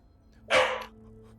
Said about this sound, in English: Your little Modron is barking.